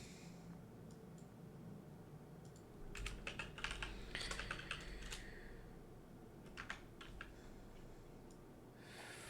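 Someone types on a computer keyboard in a quiet room, fast bursts of soft key clicks that grow busier in the middle and then slow to scattered taps.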